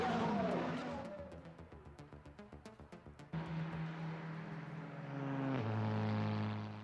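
TCR touring race cars cross the finish line at Cascavel in South America: a rapid string of engine whines sweeps past, then sustained higher engine tones drone as further cars follow.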